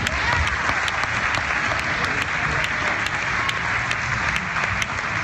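Sustained audience applause for Rex Nolan, steady and dense throughout, with a few sharper individual claps standing out and faint voices mixed in.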